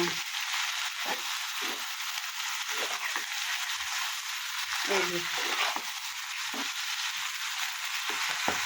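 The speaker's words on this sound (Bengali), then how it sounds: "লবণ দিয়ে একটু ভালো করে নাড়িয়ে নিব" Steady loud sizzling of fish frying in a pan with salt fills the clip, broken by intermittent scraping and clinking as the pan is stirred.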